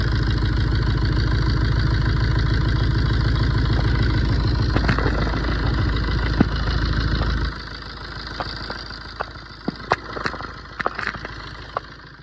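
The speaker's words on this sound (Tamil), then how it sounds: "அதே மாதிரி இன்ஜினோட ஷேக்கும் பாருங்கள் எவ்வளோ தூரம் ஆடுது." A Tata Zest car engine idles loudly up close, shaking on its mounts, with a dense steady rumble that drops in level partway through, followed by scattered clicks and knocks.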